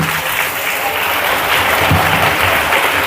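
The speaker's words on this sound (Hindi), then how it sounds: "जोरदार ताली बजा के" A church congregation claps loudly and continuously during a sermon, a dense, even wash of applause filling the whole stretch with no pauses.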